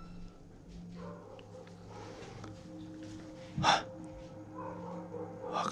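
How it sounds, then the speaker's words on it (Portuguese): Dogs move about inside a house at night, making faint sniffing and breathing sounds with one short, louder snort or huff partway through, all against a quiet room hum. "Olha os cachorros."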